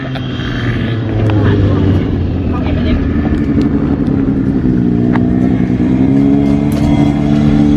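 Vehicle engines rev and drone at a drift race track in East Pattaya, Thailand, with a steady loud motor note shifting in pitch throughout, mixed with crowd and trackside noise.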